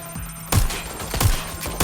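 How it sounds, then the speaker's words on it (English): Gunfire in the video game Watch Dogs Legion: three sharp, loud shots spaced about half a second apart, each ending in a short decaying tail over a steady game background, with no talking. "I hear a gunshot."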